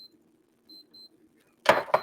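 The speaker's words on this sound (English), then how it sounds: "Both of them are alarms going off right now" A short electronic alarm from a phone or watch beeps twice faintly, then a louder burst of sound follows at the end.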